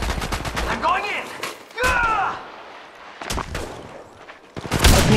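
Weapon fire in the Apex Legends battle royale game, with bursts of rapid shots separated by quieter gaps and a loud burst near the end, plus some game effects and voice lines.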